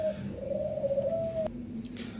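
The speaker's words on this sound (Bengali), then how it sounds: "চলুন আপনাদের আরেক জোড়া কবুতর দেখাই" Pigeons coo in a close, steady run of low calls, with a higher whistle-like tone overhead; the birds are a big-size chocolate-coloured Lahori pair.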